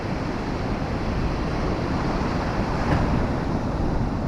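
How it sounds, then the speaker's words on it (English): Sea waves washing onto a shingle beach in the evening, a steady, fairly close surf roar with wind buffeting the microphone and no talking. "You can hear the waves. I'm sure you can hear the waves."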